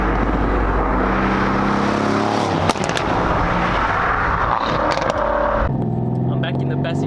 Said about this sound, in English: This is the 500 kilowatt C63S Coupe by Wolfchip Technic.